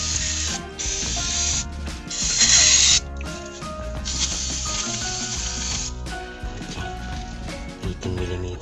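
Several bursts of loud hissing aerosol spray onto a 2003-2008 Toyota Corolla Altis stabilizer bar link, repeated in short blasts, over a busy mechanical background with rattling and clanking.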